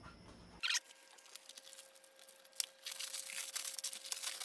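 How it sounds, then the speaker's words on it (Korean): A knife slices and tears the plastic wrap off a shiitake mushroom growing block that has browned after three to four months of incubation, giving close crinkling, scraping rustles and a sharp rip, with a steady faint tone underneath. "비닐을 커팅을 해야 돼요"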